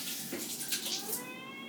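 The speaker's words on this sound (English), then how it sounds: "Now this cat is going to start clawing at me." A hungry cat near dinner time lets out a faint meow over kitchen water-tap noise, with a short whining, rising call midway and steady hiss throughout.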